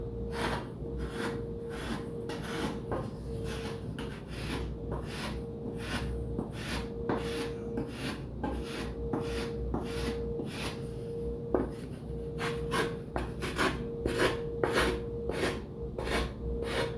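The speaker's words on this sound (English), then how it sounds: "I'm using the 80 grit paper right now" Steady back-and-forth rasping of 80 grit sandpaper worked by hand over a giant scale P47 Razorback model plane horizontal stabilizer, rhythmic strokes close up, with a faint steady hum beneath.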